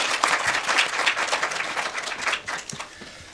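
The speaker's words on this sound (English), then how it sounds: "Can a round of applause for our panel?" Audience applause for a discussion panel at a conference, steady dense clapping from a room of people lasting throughout, moderately loud and fairly close.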